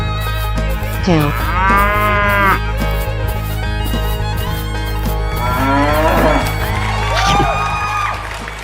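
Loud drawn-out cow moos, two long calls a few seconds apart, set against steady background music and cartoonish effects; no talk.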